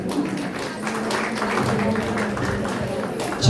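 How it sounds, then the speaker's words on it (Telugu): Applause at a retirement ceremony forms a dense, steady patter of many hands clapping that lasts the whole stretch, with voices mixed in underneath. "చప్పట్లు బాగా గట్టిగా ఉన్నాయి."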